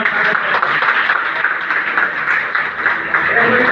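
An audience at an indoor business presentation breaks into dense, sustained clapping, a close crowd of hands applauding steadily for several seconds with voices mixed in.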